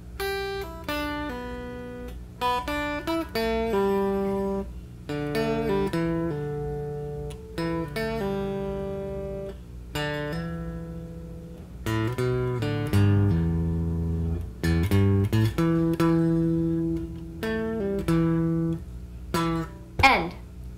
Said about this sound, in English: all that outro riffage sounds like this.